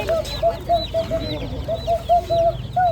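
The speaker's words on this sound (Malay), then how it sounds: "Ini anak ayam kampung." Baby village chickens (ayam kampung) at a morning market in Kuala Kangsar peep and cluck in a rapid series of short, high chirps close by, over faint background market bustle.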